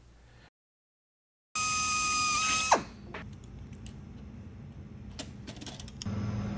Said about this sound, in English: The hinge is then match drilled using the holes in the spar as a guide.